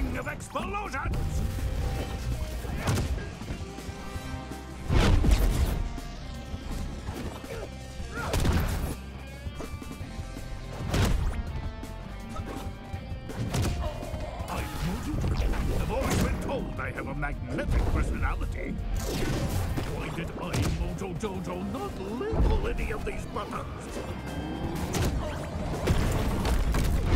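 Game explosions and crashes burst repeatedly in a MultiVersus match, loud thumping impacts scattered among continuous busy game sounds and music.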